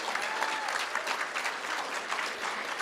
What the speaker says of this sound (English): Let's give our Teachers of the Year a huge round of applause.